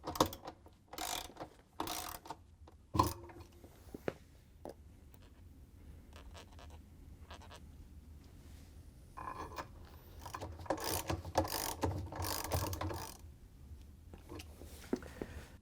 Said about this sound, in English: we can grab the 13mm socket with an extension and the ratchet and tighten them down